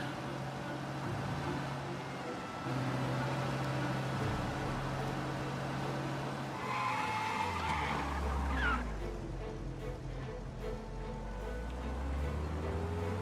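Cars skidding in the video game Mafia: Definitive Edition, with engine drone and a long tire squeal rising then sweeping down in pitch before the motors settle back to a low rumble.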